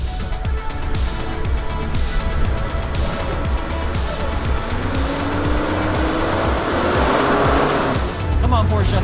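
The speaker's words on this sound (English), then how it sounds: "That was a pretty good launch." A Porsche launches hard in a drag race, engine howling as it rises steadily through the revs with a climbing tone, loud and close, with tire noise and a voice talking over it.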